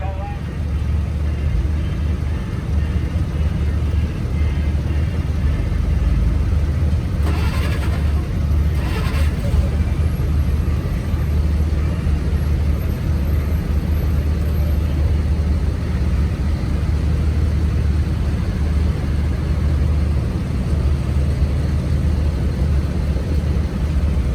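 A ton and a half truck in a convoy gives a steady low engine rumble that runs unbroken throughout, loud and close, with a brief higher whine in the middle.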